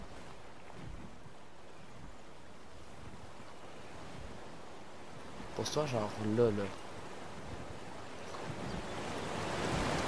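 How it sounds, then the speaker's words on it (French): Steady wind blowing through the open world of the video game Ark, a constant broad hiss that runs the whole way, with a brief spoken remark in the middle. "On a entendu le vent."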